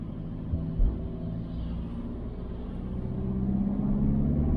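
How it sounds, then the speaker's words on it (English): A Volkswagen Caddy van with a turbo fault lugging uphill in too high a gear, its engine a low, strained rumble close to stalling that slowly builds in loudness, heard from inside the cab. "I'm letting it labour almost to the point of stalling"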